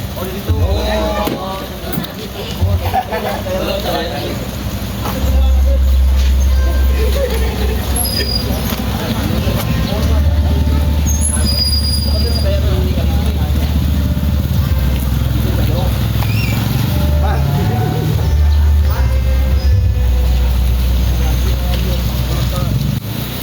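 A car arrives with a Sundanese traditional wedding procession in a village, its engine rumbling low and steady close by, with people talking over it throughout.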